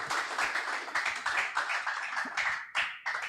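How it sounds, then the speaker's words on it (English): Audience applause at a developer tools event, a few seconds of scattered, fairly close hand clapping that fades and swells in uneven bursts. "let's give it another round of applause"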